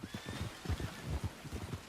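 Horses in the open-world game Red Dead Redemption 2, with a whinny and soft clip-clop hoofbeats over a low rumbling ambience, steady and moderately near, no talk.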